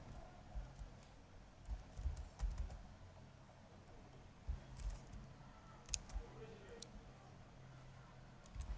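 Quiet clicking of a computer keyboard as someone types website text, soft irregular keystrokes in short bursts, close but faint, with a voice speaking over them.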